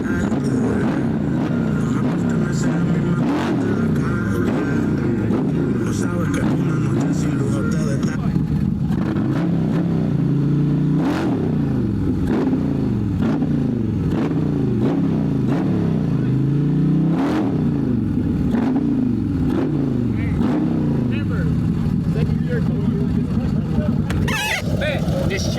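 A Harley-Davidson CVO motorcycle with a 143 cubic inch engine revs repeatedly during a race, its rumbling engine rising and falling in loud bursts over about 25 seconds with people talking over it.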